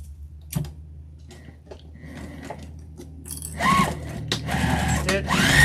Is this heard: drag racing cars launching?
no